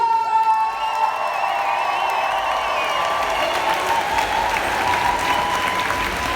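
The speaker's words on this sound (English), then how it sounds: "Make some noise and give a very warm welcome to Matt Pritchard!" A crowd at the Vegan Campout 2019 festival applauds and cheers steadily as a performer is welcomed, with clapping and whoops filling the space throughout, some high shouts rising above the sustained ovation.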